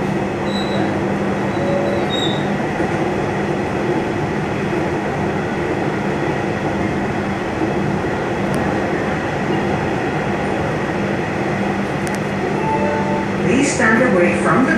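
Kanpur metro train running, a steady broadband rumble with a low hum and faint wheel squeal throughout, loud and continuous with no talk.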